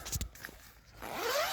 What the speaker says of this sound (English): Got a double zip here.